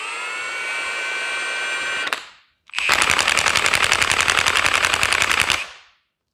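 A Milwaukee 2767 high-torque impact wrench whirs at full speed, winds down, then starts again and hammers in a loud, rapid, machine-gun-like burst of impacts before spinning down to silence.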